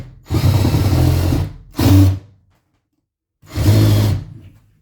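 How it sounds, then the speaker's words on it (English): A power drill drives screws into drywall in three loud, close bursts of buzzing motor whine, one long, one short, then a pause and another long run. "the 3 screws are perfectly like drilled into the drywall"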